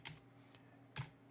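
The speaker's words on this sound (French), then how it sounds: "je tape kernel" Two quiet, close computer keyboard keystroke clusters, a short tap burst then another about a second later, typed into a Linux system.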